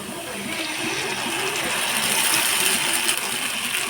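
Water poured into a pot of corn soup on the stove, a steady broadband splashing and pouring rush lasting several seconds, fairly close and continuous, with no voices over it.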